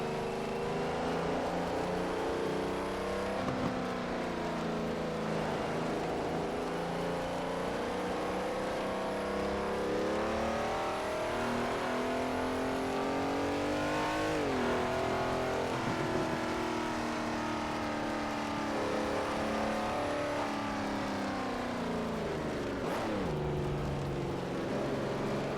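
Close and steady, the Ferrari V12 of a VR racing game drones on at speed, rising and falling gently with a couple of quick blips from gear changes, loud and unbroken throughout.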